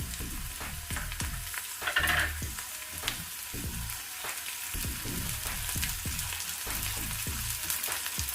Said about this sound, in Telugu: ఇప్పుడు పచ్చి బఠానీ వేసాం కదా, ఒక 2-3 నిమిషాలు మనం వేయించుకుందాము.